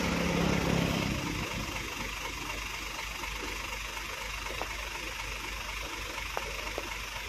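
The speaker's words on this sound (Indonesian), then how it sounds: "ini kapalnya udah mau jalan" A ferry boat's low, steady engine drone idles throughout at a river bridge, a deep continuous rumble with faint mechanical knocking, heard over open outdoor ambience with no talking.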